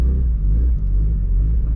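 JDM Mitsubishi Evo 8 moving off from a stop, a brief, loud low engine rumble with a steady throaty tone and no talking.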